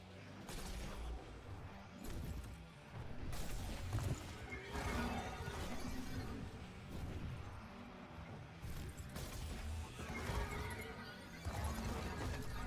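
A horse in a video game whinnies and clip-clops along, with hoofbeats in a steady trotting rhythm and neighs rising over them. Occasional crashing and smashing effects punch through, and the mix is busy and fairly loud throughout.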